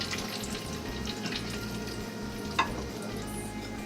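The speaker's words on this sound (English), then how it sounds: "So I'm almost done frying all the donuts" Donuts fry in hot oil with a steady, soft crackling sizzle throughout, plus one brief clink partway through.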